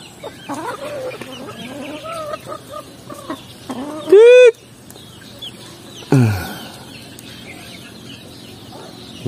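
Native hens cluck in short, scattered bursts close by, with a sharp louder squawk partway through and quieter farmyard noise in between.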